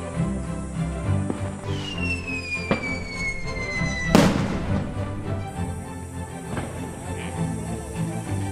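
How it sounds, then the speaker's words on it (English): Fireworks and explosions set off during a Day of the Dead celebration in Mitla, Oaxaca, Mexico: a whistling rocket rises, then a sharp loud bang lands, with scattered distant pops and thuds over a noisy outdoor crowd ambience. "you might be able to hear some gunshots or like explosion sounds"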